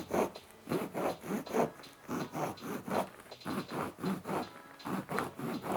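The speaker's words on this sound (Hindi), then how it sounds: "उसी पेंसिल के निशान पे हम अब इसको आरी से काटेंगे।" A hand saw cuts through a papier-mâché ball in short, steady back-and-forth strokes, about a dozen rasping passes in rhythm, close and fairly loud with no talking.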